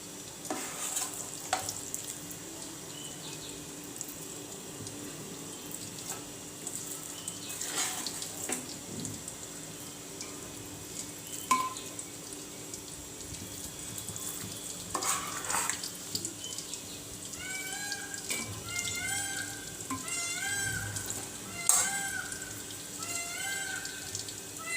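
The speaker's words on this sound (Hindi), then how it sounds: "अच्छे से मिक्स कर लेना है।" Matka chicken gravy being stirred in a clay pot over a medium gas flame, soft continuous sizzling under intermittent scraping stirs, with a cat meowing repeatedly toward the end.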